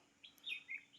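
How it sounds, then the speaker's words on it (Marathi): A few faint, high bird chirps in quick succession against quiet background, brief and delicate. "पक्ष्यांचा किलबिलाट"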